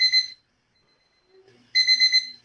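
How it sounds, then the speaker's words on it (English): A five-minute timer alarm beeping loudly in two short bursts of rapid electronic tones, separated by a quiet gap, heard on its own. "That was the 5-minute timer."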